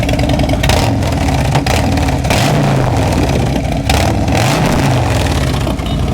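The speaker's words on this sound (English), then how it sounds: "Give it a little rev." A loud motorcycle engine with aftermarket mufflers revs twice, the pitch rising and falling with each throttle blip over a rumbling idle.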